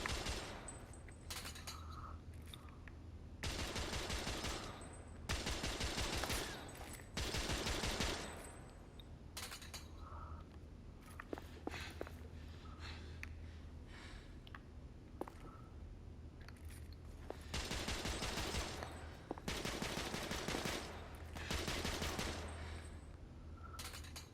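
Sustained bursts of automatic gunfire and rapid shots from the video game The Order: 1886, loud and repeated in several long volleys with short gaps between them, no talking.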